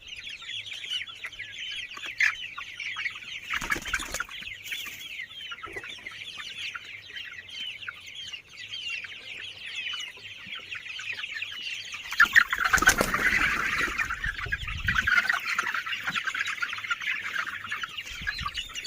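Sonali hybrid chickens and roosters about forty days old cluck and chirp in a farm shed, a busy flock chatter with a louder burst of fluttering and calls partway through, fairly soft and without talk.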